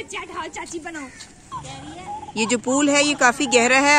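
Wild birds call around a deep village pool. Someone talks over faint calls at first, then louder, wavering cries rise in the second half.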